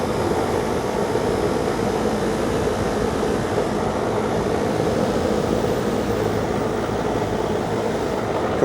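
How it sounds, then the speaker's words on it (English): A kitchen air conditioner's compressor runs with a steady, loud broadband drone and low hum that holds constant throughout, with no voices. "Compressor number 1 is running."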